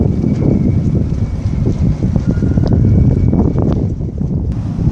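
Near a port gantry, the ship MSC Seagrass, hidden from view, drones as a continuous low rumble, heavily masked by strong wind buffeting the microphone throughout.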